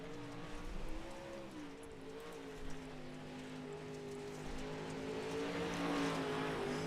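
A pro late model race car engine at speed on the Cedar Lake track in iRacing, a steady tonal drone that builds slightly louder toward the end, with no talk.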